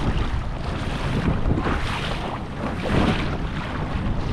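Wind and choppy water in Big Lagoon, Palawan, heard from a kayak: a loud, continuous rush of gusts buffeting the microphone over sloshing waves, with no talking.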